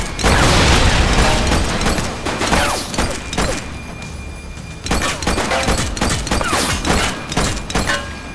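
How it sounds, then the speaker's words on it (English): Bursts of gunfire in the police video game The Precinct, rapid cracking volleys and thumps clustered in loud groups with short pauses, mechanical clatter between shots, close and dominant with no talking. "Shots fired!"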